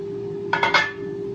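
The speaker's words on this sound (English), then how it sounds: "Toss them around in this yummy garlic butter glaze." Steak bites are tossed in a pan of garlic butter glaze, with three quick metallic clinks and scrapes in a row over a steady low hum.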